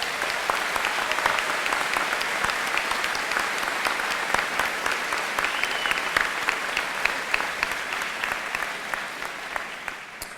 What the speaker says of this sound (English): Can we just give Dr. Anderson one more round of applause?